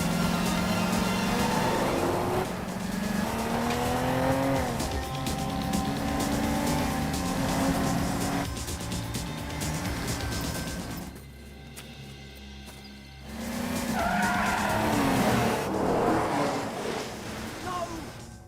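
A limousine races along, its engine roaring steadily and tires skidding and squealing through a long continuous run, with a brief drop in the noise before the roar returns.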